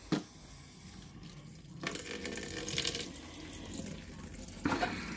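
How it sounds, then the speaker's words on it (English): Water running from a sink tap, a steady close splashing hiss that swells partway through, with a brief sharper burst near the end. "He likes to drink water from the sink."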